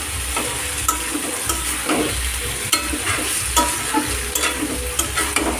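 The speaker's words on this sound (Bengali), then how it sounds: "এটা কষিয়ে নিব ভালো করে" A spicy vegetarian vegetable curry being stir-fried with spices, loud steady sizzling under repeated scraping stirs and clicking taps of a spatula on the pan, close and without speech.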